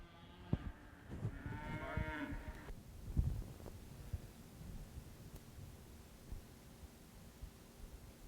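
Shorthorn heifers at a cattle show give a single drawn-out moo, clear and fairly close, followed by scattered thumps and rustling in a quiet barn.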